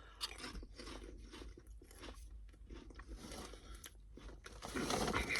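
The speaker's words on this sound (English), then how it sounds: "Decent quality chips. Nice crunch." Herr's Old Bay flavored potato chips being bitten and crunched, a steady series of close, crisp chewing crunches with small pauses between bites, growing a little louder near the end, no talking.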